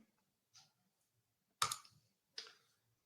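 Mouse clicks in software while navigating a BIM program, three short sharp clicks spaced irregularly in a quiet room with no talking.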